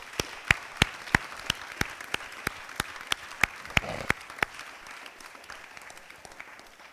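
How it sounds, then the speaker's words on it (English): An audience at an Islamic talk claps in a slow, regular rhythm of sharp, evenly spaced beats, about three per second, that thin out and fade after a few seconds into softer, scattered claps. "please give them another round of applause"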